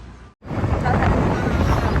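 Wind blowing hard outdoors, a dense roaring rush buffeting the microphone that drops out for a moment and then returns loud and steady.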